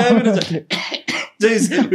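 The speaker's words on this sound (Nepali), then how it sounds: "त्यो त अहिले खोकी चल्दैछ" Several rough coughs and a throat clearing burst out close by during a podcast conversation, mixed in with talking.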